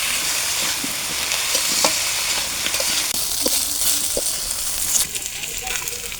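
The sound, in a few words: raw banana frying in oil with turmeric and salt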